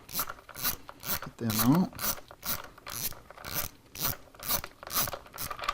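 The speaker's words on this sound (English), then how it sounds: "The next thing we need is a 7/16 to take out the 2 breather bolts that are attaching the back plate to the cylinder head" A ratchet with a 7/16 socket removes the breather bolts on a stock 2010 Harley Davidson FLTRX, making close, steady rhythmic clicking strokes, with a brief spoken phrase partway through.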